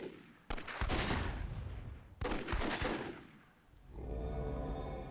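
Bursts of gunfire from the WWII-themed Myth II Soulblighter game, two dense volleys of rapid shots with booming thuds, then a sustained rumbling battle din with tonal game sounds.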